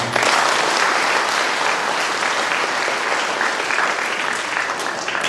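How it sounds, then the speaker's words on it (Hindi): A crowd at a church feast-day service in Kapodih Parish claps steadily for several seconds, a dense, even burst of applause with no pause. "स्वागत है तो हम ताली बजा देते हैं।"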